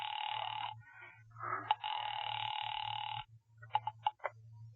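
A telephone rings in an old-time radio suspense drama: two long, buzzy bell bursts over a low electrical hum, followed by a few short clicks, faint and recorded with a vintage broadcast quality.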